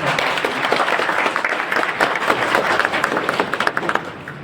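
Audience applause at a National Lok Adalat event at the District Court in Ghazipur, a dense burst of many hands clapping steadily, loud and close, holding for several seconds without talk.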